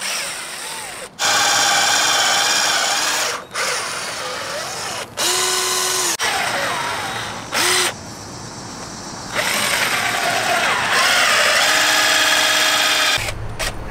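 A cordless power drill whirs in loud bursts of several seconds, stopping and restarting repeatedly with pitch dips as the motor loads and slows, close by, with a battery running low.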